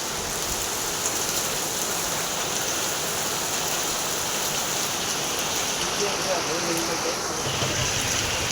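Heavy rain pouring steadily outdoors, a loud, even, unbroken wash of falling water that holds at the same level from start to finish.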